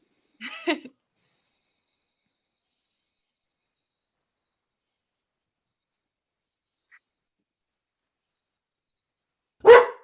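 A dog barks at an open space committee meeting held over a remote call: one short bark at the very start and another at the end, with near silence in between.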